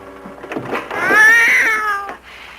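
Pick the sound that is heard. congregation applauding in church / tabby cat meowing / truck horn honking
tabby cat meowing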